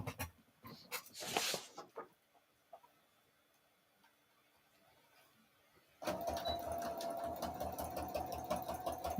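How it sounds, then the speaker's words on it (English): A sewing machine stitches straight across a line on a small fabric mini bag, starting abruptly after some handling noises and a quiet pause, then running steadily and close until the end. "I'm just gonna stitch right across that line."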